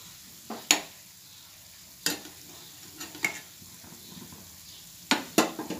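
Cabbage pakodi batter dropped into oil in a pan, a soft steady sizzle punctuated by several sharp clinks and scrapes of a utensil at irregular intervals, close and moderately loud.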